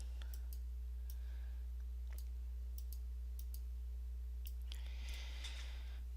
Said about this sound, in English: I'm just going to click and drag